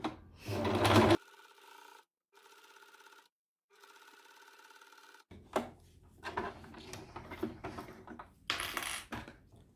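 Sewing machine backstitching on a fabric budget envelope wallet: short bursts of stitching with a higher whirring tone, broken by pauses, then clicks and handling noises as work continues.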